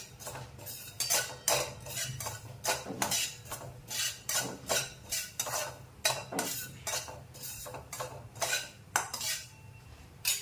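One spoonful of poppy seeds is dry-roasted in a pan for modak filling, with a utensil stirring and scraping against the metal in an irregular rhythm of close, light clinks and scratches, and no voices.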